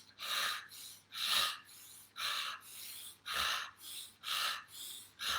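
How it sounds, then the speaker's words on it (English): Dragon's Breath breathwork exercise: six forceful, rhythmic breaths, each a loud hissing rush of air lasting under a second, separated by short pauses, close and without talk. "Keep on breathing, doing really well."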